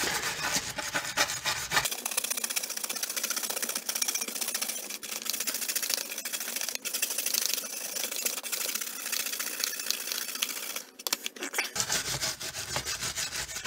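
Clutch plates from a 1965 Suzuki K11 motorcycle are scrubbed clean, a steady rapid rasping rub up close that carries on for most of the stretch, no voices.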